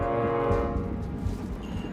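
A train rumbles by in the Hitman 3 video game, a steady low rolling drone with a tonal horn-like hum on top, moderately loud and continuous, with no talk.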